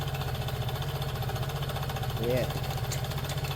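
A Piaggio Liberty scooter with an iGet engine, just repaired with new valves, idles close by with a steady, rhythmic low thrum. Someone briefly speaks over it.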